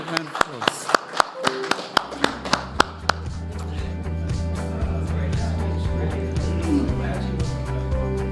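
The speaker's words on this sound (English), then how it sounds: "Please give it a round of applause." Listeners after a lecture on liberalism and the Indo-Pacific give a short burst of scattered, distinct claps from a small audience, close and sharp, which fade within a few seconds into talking and background tones.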